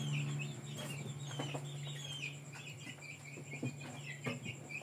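Indio Gigante chickens, an imported breed, cluck steadily and moderately close, with several short calls over a constant background hum and faint insect chirping.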